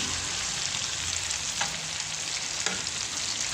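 Shrimp sear in a hot pan with a steady, close sizzle and a couple of brief clinks from stirring.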